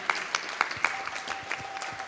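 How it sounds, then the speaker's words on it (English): Applause from an audience at a Sunday temple feast gathering, a moderate patter of claps with a few sharper hits, fairly quiet and steady for a couple of seconds. "she deserves a very big round of applause"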